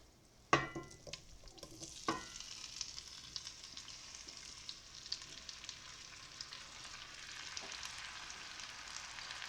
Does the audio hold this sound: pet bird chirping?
no